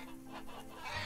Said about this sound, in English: We have a rooster.